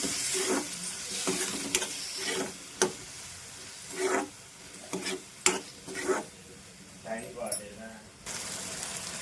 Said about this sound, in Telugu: టమాటాలు వేసేద్దాం. టమాటాలు కూడా బాగా వేగాలండి.